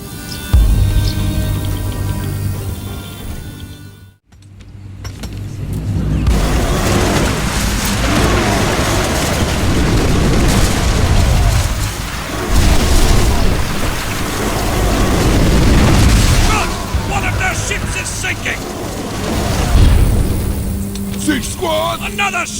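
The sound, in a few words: ship being destroyed with explosions in video game Ancestors Legacy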